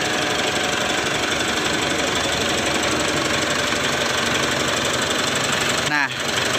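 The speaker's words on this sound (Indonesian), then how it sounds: "apabila teman-teman mendengarkan suara tik tik tik tik tik tik seperti ini" A 2008 Mitsubishi Strada Triton Exceed engine running with a rough, rapid ticking knock, loud and continuous close to the motor, with a brief thump near the end.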